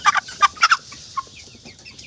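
A chicken on a poultry farm where the flock has coryza clucks close by in a few quick, sharp bursts, then gives softer, scattered clucks.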